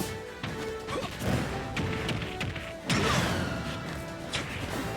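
Captain Falcon throws out a forward smash in a Super Smash Bros tournament match: repeated crunchy hits and thuds, one heavy strike near the middle, all over steady crowd and game noise.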